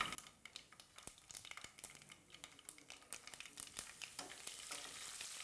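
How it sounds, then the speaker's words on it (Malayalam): Curry leaves crackle and sizzle in hot oil where mustard seeds and urad dal have already popped, giving a busy, close run of sharp spits and pops over a steady frying hiss that builds toward the end. "കടുകും ഉഴുന്നുപരിപ്പും പൊട്ടിയതിന് ശേഷം കറിവേപ്പില ഇടുക"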